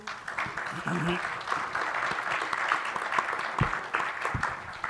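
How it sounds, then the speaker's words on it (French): Audience applause in a conference hall for hydrogen round-table panel speakers, moderate scattered clapping with voices murmuring over it. "On peut applaudir nos intervenants."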